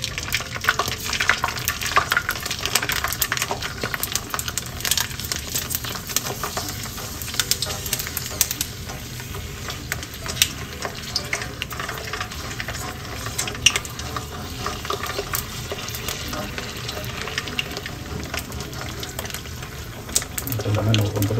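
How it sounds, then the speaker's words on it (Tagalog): Pork skin chicharon fries in very hot oil and is stirred, giving a continuous crackling sizzle with scraping and bubbling, while a voice talks intermittently over it. "napakainit na ng mantika. Kailangan talaga ginalagalaw-galaw."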